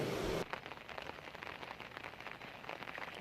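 Light rain falls steadily outdoors during a day of monsoon showers, a soft, even hiss of drops with no voices, after a brief louder burst at the very start.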